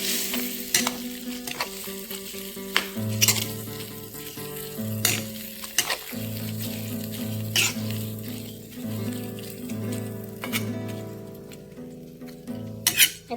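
Thick coconut milk and soya meat stirred in a sizzling pan for a Sri Lankan soya meat curry, steady frying hiss with repeated spoon clinks and scrapes against the pan, close and continuous with no talking.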